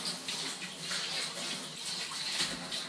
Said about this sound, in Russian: элементарное мытье рук водой проточной